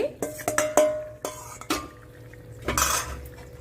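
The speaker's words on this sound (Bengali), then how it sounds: "এখন আমি এর মধ্যে ঢেলে দিচ্ছি ম্যারিনেট করা চিকেনটি" Marinated chicken goes into a pan of cooked garlic and green chilli paste and is stirred with a metal utensil: a run of sharp, close clanks and scrapes, then a wetter sizzling burst near the end, with no talk.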